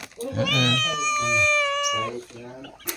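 A cat gives a long, loud, drawn-out meow close by, followed by shorter mews, while a person speaks around it.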